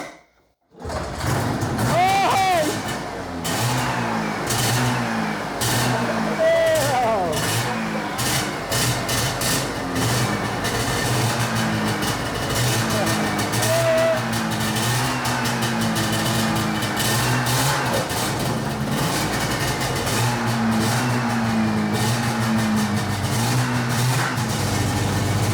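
A Yamaha SRV 540 snowmobile engine, a barn find being rebuilt, fires up after a brief start and then runs steadily and loudly for the rest of the clip, with uneven revs and people talking over it.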